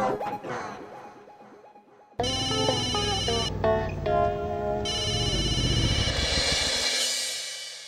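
Phone ringing unanswered, a synthetic electronic ringtone melody playing loudly and repeatedly for several seconds after a brief faint lead-in, with no one speaking.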